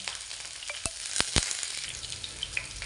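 Curry leaves, ginger and garlic frying in hot oil for a fish curry, a steady close sizzle with sharp crackles and a few spatula knocks, no voices.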